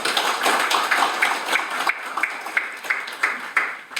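Applause from an audience at a National Assembly forum on motorcycle parking fines, welcoming lawmakers as they are introduced; scattered, moderately loud clapping with distinct individual claps running steadily throughout.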